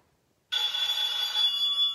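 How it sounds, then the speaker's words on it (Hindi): A telephone bell rings suddenly after a short silence, a bright steady electronic trill that holds loud and close to the end. "फोन आ गया"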